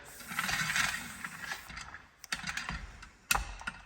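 An air hose reel on a home DIY pressure washer and air hose station winds its hose back in, a close rattling whir of about two seconds followed by a few sharp clicks and knocks as the hose stops.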